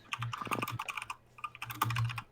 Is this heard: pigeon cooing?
no